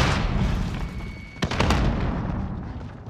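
Shotgun fire in Call of Duty Warzone on PS5: a loud sharp blast near the middle, followed by a second burst, over steady rumbling battle noise with no talking.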